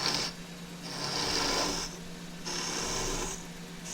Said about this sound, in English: that's doing it with a skew chisel, or you can do it with a gouge